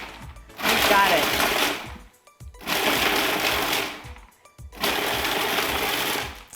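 A food processor pulses pesto ingredients in three loud, rattling bursts of roughly one and a half seconds each, with short quiet gaps between them and nobody speaking.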